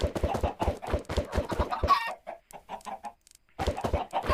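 Minecraft chickens cluck in a rapid, busy series after thrown eggs hatch, the blocky game fowl clucking close and loud with a short pause before the clucking resumes.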